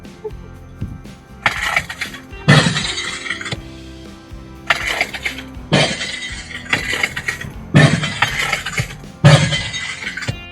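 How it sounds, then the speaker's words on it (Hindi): Repeated bursts of shattering glass played through a loudspeaker at the KL Tower in Kuala Lumpur, about five crashes spaced a second or two apart, each a bright, jangling smash. "कांच टूटने की आवाज़ आ रही है"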